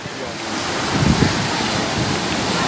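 Cold Baltic Sea surf washes onto a beach in a steady, broad rush, mixed with gusty wind buffeting the microphone and no clear speech.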